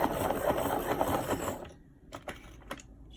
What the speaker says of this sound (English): Sharpen that to a point.